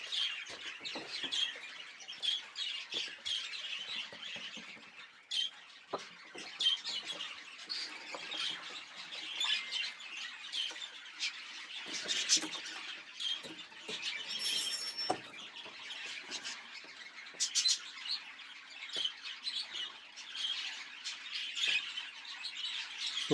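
Budgerigars in a breeding stud squawk and chirp continuously, a dense flock chatter of overlapping calls close by with no talking.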